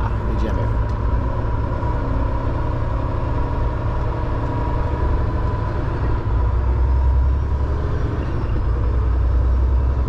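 A car pulling away, its engine a steady, close low rumble that holds for the full stretch, with no voices heard.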